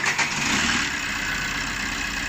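A rebuilt Fiat Linea 1.3 engine, with freshly replaced valves, turns over and catches, then settles into a steady, close idle hum.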